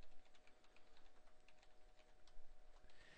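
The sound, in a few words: typing an email address on a computer keyboard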